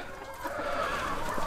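Steady low clucking from a group of chickens, continuous and moderately close, with no voices.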